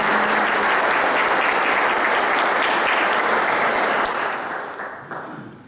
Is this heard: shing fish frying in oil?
no